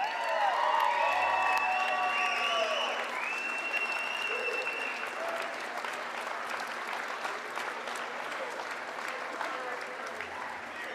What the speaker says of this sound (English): Now let's give a huge round of applause to 3 generations of Gardiner Area High School basketball.